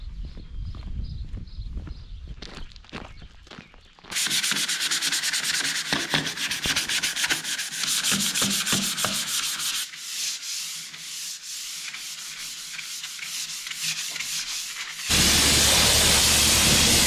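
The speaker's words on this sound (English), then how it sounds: "So I'm gonna start by sanding that." Steady, gritty rubbing of sandpaper on a tractor's metal, continuing in long back-and-forth strokes with a few brief pauses and knocks, close by.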